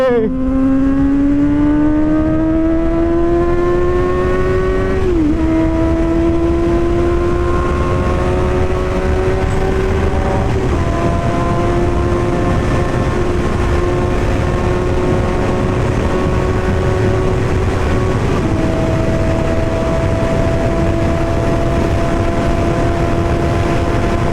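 Suzuki GSX S750 motorcycle ridden at high speed, its loud engine whine climbing steadily through the revs with three distinct gear shifts, over constant rushing wind noise.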